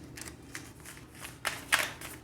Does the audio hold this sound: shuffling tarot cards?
yes